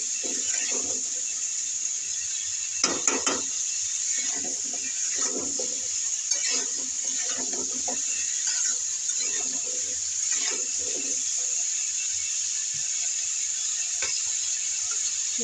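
Pointed gourd frying in a pan gives off a steady high sizzle while a spatula stirs it, scraping and clinking against the pan in irregular strokes, close and fairly quiet, with no talking.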